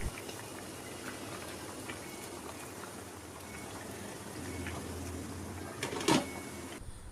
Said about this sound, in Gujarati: ગ્રેવીમાં 1 બોઇલ આવી ગયો છે